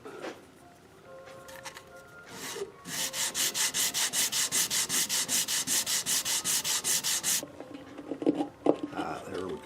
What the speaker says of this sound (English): I will sand down the saddle blank, get that to fit right into the slot there